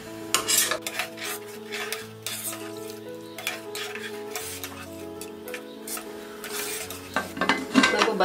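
A spoon scrapes and clinks against a pot while whole green moong dal, already fried, is stirred with two cups of water, with steady metallic stirring and a soft sizzle under light background music.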